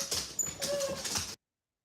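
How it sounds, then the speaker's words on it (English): Excited dogs whimpering and giving short high yips indoors, a close, busy burst of whining cries lasting about a second before cutting off. "my dogs are gonna go crazy"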